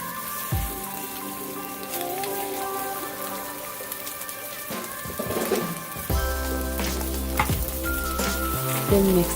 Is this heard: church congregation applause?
no